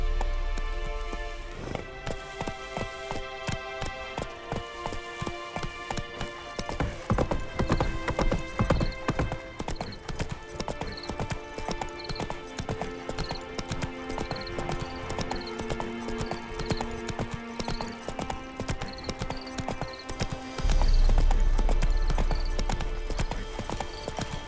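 Horse galloping in The Witcher 3 video game, a loud continuous clip-clop of hooves running under a steady musical score, with a short whinny-like burst near the end.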